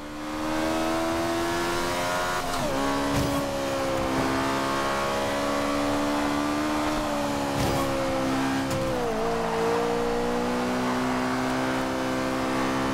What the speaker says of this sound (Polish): czuć momenty, kiedy samochód tracił przyczepność i tracił dosyć mocno tą przyczepność na zakręcie